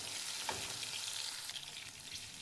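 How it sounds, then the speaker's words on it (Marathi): Garlic and green chillies fry in hot oil, giving a steady, soft, continuous sizzling hiss with no pauses. "हिरवी मिरची तेलामध्ये भाजून घ्यायचे."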